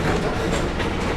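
A train rumbles past at Magic Kingdom's Tomorrowland, loud and close, a steady dense clatter of wheels filling the brief moment.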